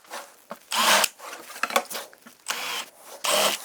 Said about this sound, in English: Now we're gonna countersink those just a little bit.